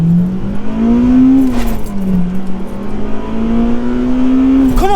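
An Audi A3 3.2 V6 and a stock Honda Civic Type R with a cat-back exhaust accelerate hard side by side in a drag race, engines droning loudly and rising in pitch through gear changes, one shift dip midway, continuous and close.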